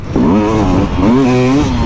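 Sherco 300 motocross bike engine revving close by, loud rising and falling rasp with crackle across two quick throttle blips, no talk over it.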